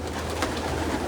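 Pigeons packed into a loft of about 860 birds coo in a soft, continuous overlapping murmur, close and steady with no talking.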